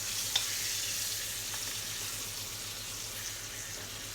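Chicken breast skin frying in butter in a pan, giving a soft, steady sizzle that stays even and fairly quiet throughout, with no voices.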